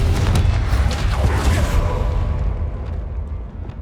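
Fiery Confringo spell blasts burst in Hogwarts Legacy combat against goblins, a heavy boom up front followed by rumbling debris and crackle that gradually fades, with lesser impacts trailing.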